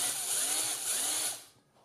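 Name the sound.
power drill drilling out a rivet in a computer case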